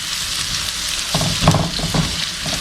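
Spam fries with kimchi in a pan, a steady close sizzle with a few soft stirring scrapes in the middle.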